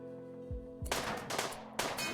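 Bolt-action rifle gunfire in the video game RimWorld: two or three sharp, close bursts of shots over a faint electronic tone, with no talk.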